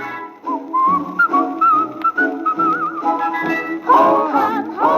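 A jaunty tune from Snow White and the Seven Dwarfs is whistled over orchestral accompaniment. The clear, high whistled line runs for several seconds in gliding phrases, then the band swells louder near the end.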